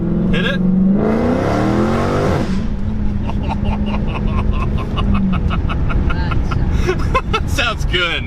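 A 2016 Dodge Hellcat Challenger accelerates hard from inside the cabin, its loud engine roaring up through the gears with a rising whine, while people talk over the noise.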